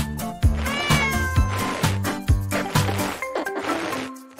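A cat, a mother with kittens, gives a series of loud, close meows in quick succession, each drawn-out cry rising and falling over a few seconds.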